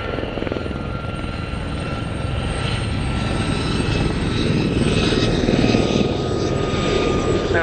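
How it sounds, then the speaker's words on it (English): Ex-RAF Gazelle helicopters in a pair passing over the display line at Cosford Airshow, a loud continuous rotor and turbine drone that builds slightly as they come past. "leading the pair in, coming in now from the left, is another ex-Royal Air Force Gazelle, an HT3 model"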